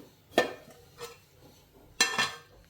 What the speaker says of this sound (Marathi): आता मी झाकण ठेवते